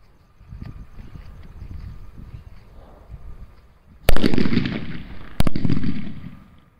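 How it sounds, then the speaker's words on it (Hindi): Two big bullet bomb firecrackers go off with loud, sharp booms a second apart, each followed by crackling debris, after a stretch of quiet outdoor background noise. "देखते हैं ये बिग साइज के बुलट बम कैसा बजते हैं और कैसा धमाका करते हैं"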